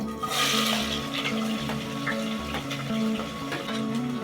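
Chopped onions fry in hot oil with curry leaves in a cooker, giving a steady close sizzle and crackle with occasional stirring, without talk.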